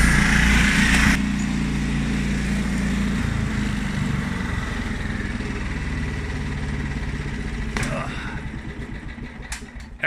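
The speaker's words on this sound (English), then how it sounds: "Every time I mow my lawn" A lawn mower runs steadily while cutting grass, a loud, continuous engine drone close by that holds for the whole stretch with slight load changes near the end.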